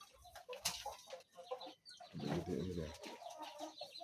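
Siam Bangkok hens, pure-bred free-range village chicken breeding stock, cluck and murmur close by in a yard, with a brief sharp call and a busier burst of clucking midway; someone speaks briefly.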